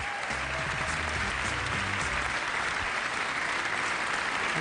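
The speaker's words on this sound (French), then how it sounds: "Des applaudissements très nourris pour Eva." Warm, sustained applause from an audience at the national Talents des Cités event greeting Eva, steady clapping with a faint low murmur early on.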